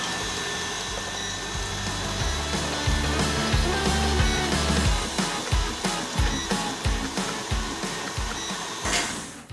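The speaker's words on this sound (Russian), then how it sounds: "Теперь я включаю миксер на максимальную скорость" An electric mixer runs at maximum speed whipping raspberry marshmallow with gelatin, a loud continuous whir with rhythmic thumping pulses as the beaters strike the bowl.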